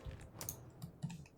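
Computer mouse clicks while selecting provinces in the strategy game Hearts of Iron IV: a few light, quiet clicks spaced irregularly over a faint background, with no talking.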